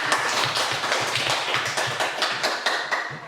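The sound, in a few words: classroom applause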